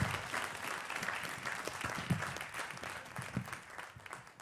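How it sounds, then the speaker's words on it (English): A conference audience applauds a panel at a talent development event, giving a steady, dense round of clapping that lasts the whole time at moderate distance. "if we just round of applause for the panel"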